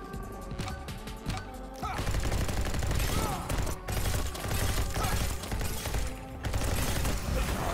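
Loud, continuous gunfire and impact sounds from the fast-paced first-person game Neon White, a steady barrage of shots layered with clattering effects and music-like tones throughout.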